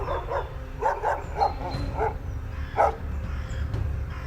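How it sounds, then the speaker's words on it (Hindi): Several dogs bark at night in short scattered bursts at a moderate distance, with a low steady background rumble underneath. "बाहर से कुत्तों की भौंकने की आवाज आती"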